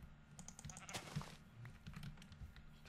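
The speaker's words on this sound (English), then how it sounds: "Kill some more sheep really quick." Sheep bleating in the Minecraft video game, one short bleat amid faint clicking and tapping, quiet overall.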